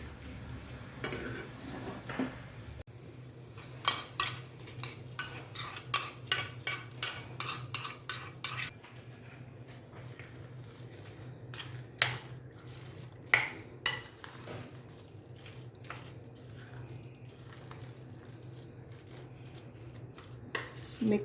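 Spoon stirring tempered spices into mashed potatoes for potato vada, a run of quick scraping knocks against the bowl, clustered then sparser, close and moderately loud over faint background hiss.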